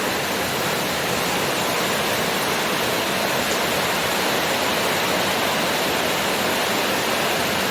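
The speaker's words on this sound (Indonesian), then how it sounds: "Langge, hujan angin." Heavy, steady downpour driven by strong wind, a dense unbroken roar of rain and gusts filling the whole stretch at constant loudness, with no voices.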